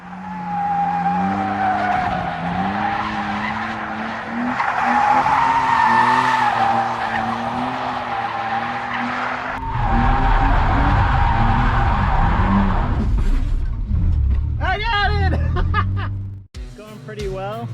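Car tires squeal and skid continuously through repeated donuts during beginner drifting practice, with the engine roaring underneath and people chuckling and talking near the end.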